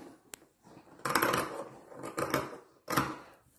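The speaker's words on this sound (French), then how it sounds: "Vous voyez qu'à découper avec une bonne paire de ciseaux qui coupe bien, ça se fait super bien." A good pair of scissors cuts through fleece fabric in a few crisp snipping bursts, close and fairly quiet, with no talking.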